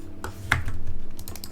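Computer keyboard keys clatter in quick, irregular clicks during a speedrunning session, with a sharper burst of strokes partway through over a steady low background hum.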